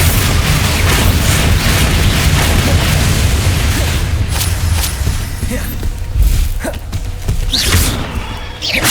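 Spell blasts in the video game Hogwarts Legacy, with a steady run of booming, thudding explosions and bursts layered over constant loud combat noise. Several sharper pops come near the end.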